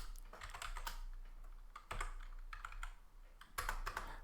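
Rapid typing on a computer keyboard fills the whole stretch, with close, crisp clatters coming in bursts and brief pauses between runs of keystrokes, and no talking.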